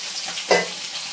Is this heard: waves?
no